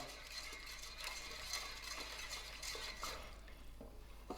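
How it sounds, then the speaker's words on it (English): A cornstarch slurry, diluted in water, is stirred in a pot with sugar and salt for kumquat pickle, giving a continuous soft scraping swirl over a steady low hum, with no talking. "I will mix this till it comes to a boil."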